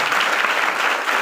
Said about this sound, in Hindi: ताली बजाकर परमेश्वर को धन्यवाद।